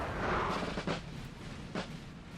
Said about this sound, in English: And they have the artillery answering.